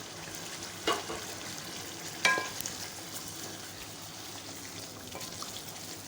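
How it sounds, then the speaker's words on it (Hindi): Chicken masala sizzles gently in a pan after tomato puree is added, with a low frying hiss and a couple of brief stirring clatters. "अब मैं इसमें शामिल कर रही हूँ जो तकरीबन मैंने 3 टमाटर लिए थे, उनकी मैंने प्योरी बना दी थी और वो शामिल कर रही हूँ।"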